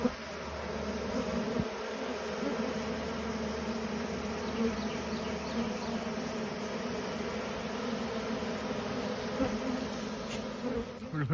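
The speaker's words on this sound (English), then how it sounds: "grab the remainder of these bees. There's just a few left." A swarm of honeybees hums in a dense, continuous drone, close and steady throughout with no voices.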